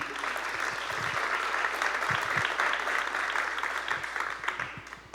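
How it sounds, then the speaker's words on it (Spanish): A Spanish-speaking church congregation claps together in a steady, moderately loud burst of applause that holds for several seconds and tapers slightly at the close. "Denle un aplauso al Señor"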